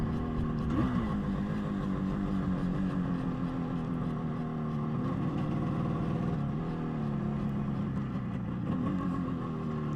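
A Moto Guzzi TS 250 two-stroke motorcycle runs smoothly near at hand, its steady ringing engine drone rising in a few gentle revs, with no one talking.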